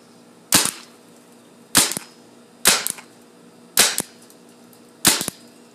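A Tippmann 98 Custom paintball marker fires five sharp, close pops at slightly uneven intervals of about a second, each with a brief tail, and nobody speaks.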